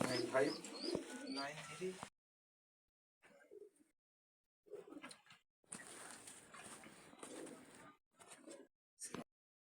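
Pigeons coo in short, intermittent bursts at a bird loft, faint and fairly close, with people talking nearby and quiet pauses between calls.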